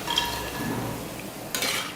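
Pakoda frying in hot oil is stirred in a pan, a soft continuous sizzle with light scraping and stirring clatter close by, a brighter scrape near the end.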